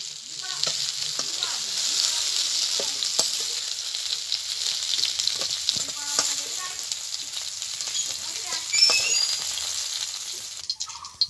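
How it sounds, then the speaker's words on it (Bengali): Pointed gourd frying in oil in a rural Bengali kitchen makes a continuous close sizzle with faint stirring clicks and scrapes throughout, and no talking. "পটলটা আমার ভালো করে ভাজা হয়ে গেছে।"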